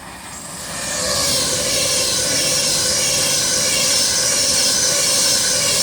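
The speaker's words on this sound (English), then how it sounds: "390 Pendolino" A Class 390 Pendolino electric train passes through Crewe station on a snowy day. A loud, steady roar of wheels and motors builds within the first second and then holds a sustained rushing hum close by, with no voices.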